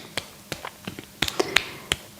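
A light fist knocks against the opposite arm in a yoga self-massage, giving a series of soft, dull taps at an irregular pace, close and moderately loud, with a few sharper strikes near the end; no talking.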